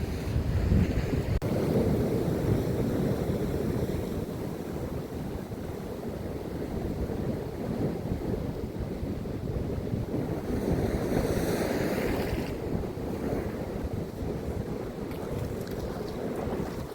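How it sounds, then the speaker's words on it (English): Sea waves break and wash continuously over a rough rocky shore, a loud, rushing roar mixed with gusting wind buffeting the microphone. "Those waves are going to have me in a minute, I can tell."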